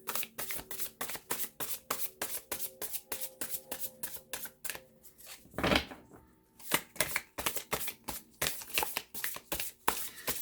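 Tarot cards are shuffled in rapid, close crisp riffles, a fast rattling patter with one brief soft swoosh in the middle.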